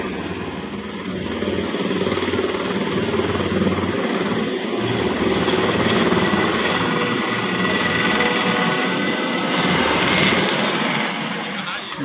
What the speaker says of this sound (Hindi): देखो कितनी आराम से हेलीकॉप्टर उतर गो